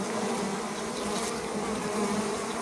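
Honeybees gathering pollen from flowers make a steady, close buzzing hum that carries unbroken through the short stretch, with no voices.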